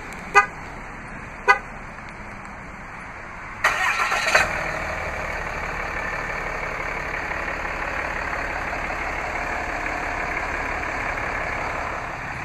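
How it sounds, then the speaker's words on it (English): A 2015 RAM 2500 Laramie Crew Cab 4x4 is started remotely from the key fob. Two short chirps sound first, then the engine cranks and fires and settles into a steady, even idle close by. "to operate the remote start is easy, just by double pressing the remote start button on the key fob."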